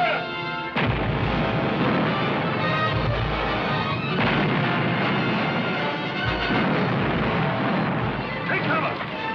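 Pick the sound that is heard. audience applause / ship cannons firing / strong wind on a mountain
ship cannons firing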